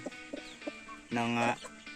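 A brooding hen gives several soft, low clucks, then a longer, louder throaty call. It sounds close, with quiet background noise.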